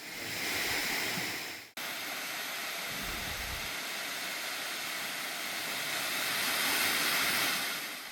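Eungbong waterfall in a valley in Inje, heard from a short distance as a steady, dense roar of falling water that fills the whole stretch, with one brief dip in level near the start.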